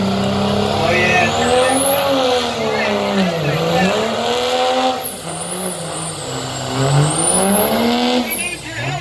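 At a fair truck pull, a 2.5 modified diesel pulling truck revs hard and loud, its engine pitch climbing and dipping in repeated surges with a high whine overhead, while an announcer talks over it.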